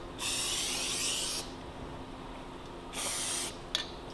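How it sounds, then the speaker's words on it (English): Spray adhesive hisses from an aerosol can onto felt lining a wooden table chest, two steady bursts of about a second and a half and half a second, close and fairly loud, with a short rattle after the second. "and then I'm putting some spray adhesive"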